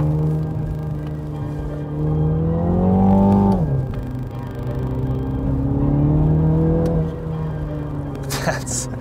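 2021 MINI JCW GP hatchback driving on a road, its engine droning steadily from inside the cabin, rising in pitch as it accelerates around three seconds, then settling and holding, with a brief sharp noise near the end.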